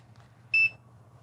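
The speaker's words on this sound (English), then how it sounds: "it's going to give me a beep." A single short, clear electronic beep from an ohm meter set to ohms, sounding once close up over a low background hum.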